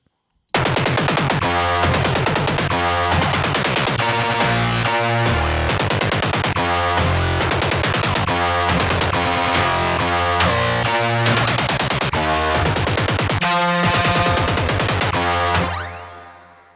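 Dense, heavily distorted, overdriven dubstep synth layers made in Logic Pro X pound continuously with loud, gritty bass and wobbling tones, then cut off and fade near the end.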